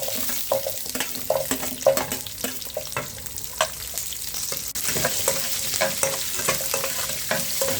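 Small shallots and ground spices are sautéed in a pan for rava dosai, with a continuous crackling sizzle and repeated scraping, stirring strokes close by and no voices.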